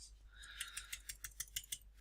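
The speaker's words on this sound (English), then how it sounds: "We can, for example, add the title by typing it." Fingers tap on a computer keyboard, a quick, uneven run of light clicks heard close and alone in a quiet room.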